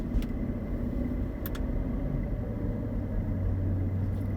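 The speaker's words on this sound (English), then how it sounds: "This car is an absolute monster when it comes to turning and driving." A heavy 2.5-ton car drives along with a steady, low engine rumble, close and even throughout, with a few faint clicks and no speech.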